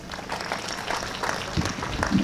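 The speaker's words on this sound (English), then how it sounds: "Another round of applause for our Honorable Minister, Dr. Joyce Moriku Kaduchu" Audience at a university graduation ceremony applauding the minister, a steady wash of clapping that swells slightly toward the end, with some murmuring underneath.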